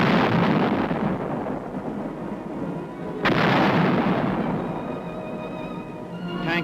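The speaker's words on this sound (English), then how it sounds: "155 howitzers fire a sharp warning at the advancing Chinese" 155 mm howitzers firing artillery rounds at advancing troops in the Korean War, a dense continuous rumble of heavy booms with a sharp new blast partway through, loud and sustained, no talking.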